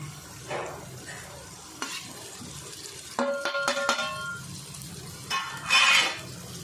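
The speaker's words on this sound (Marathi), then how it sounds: "आता हे व्यवस्थित परतून घेऊया फक्त व्यवस्थित सगळं मिक्स झालं पाहिजे" Raw green mango and dried shrimp are stir-fried on a flat griddle with chilli powder, garam masala and turmeric. Soft sizzling and scraping run throughout, with a burst of bright metallic clinks from the spatula near the middle and a louder scrape near the end.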